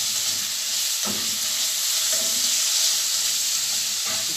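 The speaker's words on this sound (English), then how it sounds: "going to stir fry it a little bit. So I'm going in with garlic and salt" Garlic and salt stir-fried in a hot pan, giving a loud steady sizzle and hiss throughout, with a few soft scrapes of stirring.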